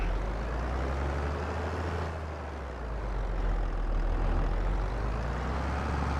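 A retro farm truck engine in Farming Simulator 22 idles with a steady, low, heavy rumble that dips briefly, then holds constant, close and alone.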